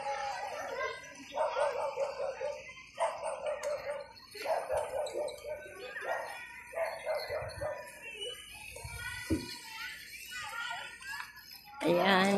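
Dogs bark in repeated short bursts at a moderate distance in a park in Bantayan, with birds and a rooster faintly audible in the outdoor background.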